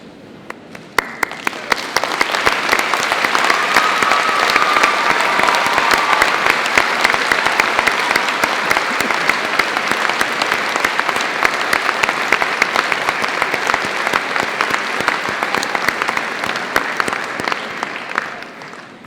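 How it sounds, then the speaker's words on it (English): Graduates at a Birmingham City University graduation ceremony give a long, sustained round of applause, dense and even in loudness, filling the hall for nearly twenty seconds after a brief quiet start. "join me in giving them a well-deserved round of applause"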